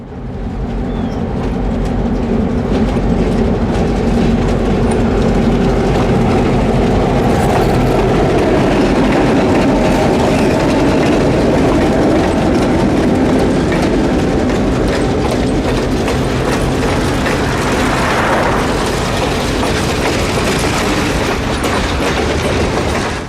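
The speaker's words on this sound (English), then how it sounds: "Today's train, pulled by two GP9s, has an open-air car up front" A heritage train pulled by two GP9 diesel locomotives rumbles loudly past up close, engines droning with rhythmic clacking of wheels over rail joints, sustained throughout.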